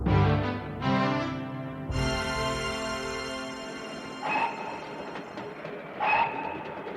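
A train rolls along the rails with a steady rumble, overlaid by long, rich whistle-like tones that swell and fade, with two brief higher calls near the end.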